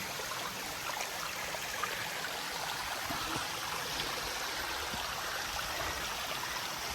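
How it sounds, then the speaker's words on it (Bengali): A waterfall flowing in a hill forest, a constant, dense rushing roar heard up close with no pauses and no voices. "চমৎকার একটা ঝর্ণা পেয়ে গেছে মাসাল্লাহ ঝর্ণাটা অনেক নিচে নেমে গেছে"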